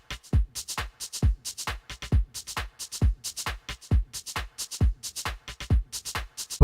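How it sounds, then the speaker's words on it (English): A chill DnB/house drum pattern from FL Studio with a punchy kick, a bright shaker and two rim-shot-style percussion hits, cycling in a quick swung rhythm, dry and unaccompanied by any voice. "We got a kick, a shaker, and 2 types of perks that are more rim shot kind of sounds"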